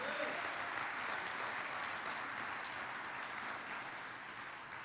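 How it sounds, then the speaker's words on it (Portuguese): Church congregation applauding loudly and steadily, a dense sustained wash of clapping that fills the whole stretch with no pauses. "Quem recebe aplaude bem forte o nome de Jesus."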